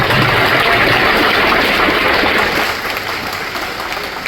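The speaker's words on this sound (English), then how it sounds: "Let's give him another round of applause." At an 8th grade graduation ceremony, a large audience claps in a steady, dense wash that holds at full strength for a few seconds before easing slightly, with no talking over it.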